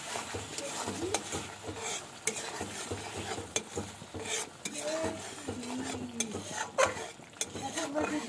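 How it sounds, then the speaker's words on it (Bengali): A spatula stirs rui fish curry in a pan for Bengali macher jhol, with repeated scraping strokes and metallic clinks over a soft background sizzle, close and rhythmic. "আমি এটা আবার ঢাকনাটা উঠিয়ে আর ভালোভাবে একটু লাড়া দিয়ে দিয়ে"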